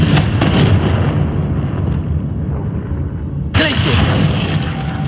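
A Confringo blast spell explodes in a video game, a loud booming burst with a heavy rumbling body, and a second sharp blast hits a few seconds later amid ongoing game noise.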